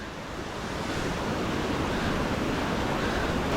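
A waterfall pours down into a forest stream in a village area, a broad steady roar of rushing water that swells slightly and continues unbroken with no voices.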